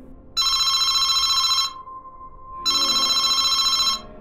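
An old-style telephone bell rings late at night in two long bursts, bright and steady, separated by a short pause, loud and close with no talking.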